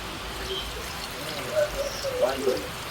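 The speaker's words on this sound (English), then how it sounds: "So I add a little bit more water in" Water poured into a pressure pot of brown stew beef, a soft trickling splash that rises in short bursts in the second half over a faint room hum.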